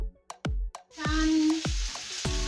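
Pork frying in a pan on low heat: a steady hiss of sizzling fat sets in partway through, with several sharp knocks and scrapes of a utensil against the pan.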